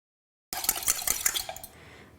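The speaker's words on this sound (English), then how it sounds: "I'm going to beat 2 eggs in a separate bowl." Eggs beaten in a jug for red velvet cupcake batter, a quick run of clinking whisk or fork strokes against the sides, close and fairly bright, easing off toward the end with no talking.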